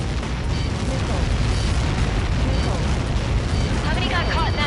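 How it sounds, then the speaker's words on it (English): A massive explosion in the combat flight game Ace Combat 7 fills the scene with a dense, sustained roar and rumble, loud and continuous throughout, with a faint voice briefly surfacing near the end. "How many got caught in that explosion?"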